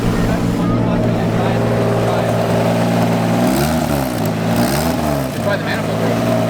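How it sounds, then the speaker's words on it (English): A drift car engine with a suspected exhaust manifold leak idles loudly up close, then revs twice in rising and falling surges, with a raspy ticking edge over a steady droning background. "Rev it up a little."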